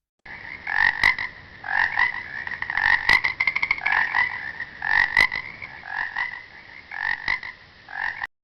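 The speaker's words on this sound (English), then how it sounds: "Frog." A frog croaks in repeated raspy bursts, a steady series of close, loud calls with short gaps between them and nothing else behind.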